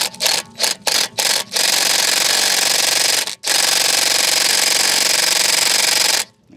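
Impact gun working loose a brake disc retaining screw on a BMW E90/E91/E92, with short bursts of loud rapid hammering followed by a long continuous run, a brief pause, and another sustained blast up close.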